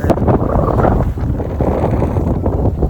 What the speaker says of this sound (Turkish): Şurası çok rüzgar var.